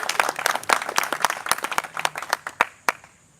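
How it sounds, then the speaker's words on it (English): Wedding guests clap for the bride and groom, a close cluster of distinct, loud hand claps in an uneven rhythm that gradually thins out to a few last claps and quiet. "a clap for our beautiful bride and her handsome groom"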